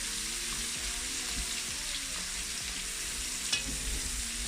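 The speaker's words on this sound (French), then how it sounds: "Faut que les oignons soient un peu colorés, fondus." Onions sizzling steadily in a hot pan for rougail saucisse, a constant loud frying hiss with occasional scraping and clinks as a utensil stirs through them.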